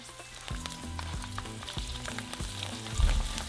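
A square of chicharron dropped into hot oil sizzles and crackles steadily with soft bubbling pops, growing a bit louder near the end, with no one talking.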